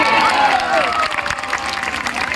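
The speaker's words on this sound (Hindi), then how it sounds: "जोरदार तालियों" A dense crowd at a political rally for a legislative candidate breaks into loud, sustained applause with cheering mixed in, close and continuous throughout.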